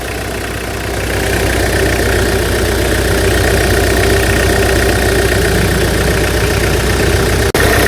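A 2006 Tata Sumo diesel engine idles steadily up close, a loud, even rumble with a rhythmic low knock that holds for the whole stretch without any talking.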